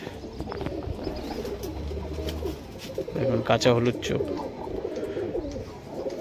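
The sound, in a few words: Tatire high-flyer pigeons cooing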